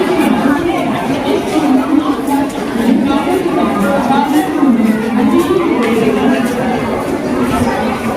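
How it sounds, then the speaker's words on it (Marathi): Dense crowd chatter in busy Mumbai near Shivaji Park, many overlapping voices forming a steady loud murmur with occasional louder calls, close and continuous. "जाम गर्दी आहे जाम."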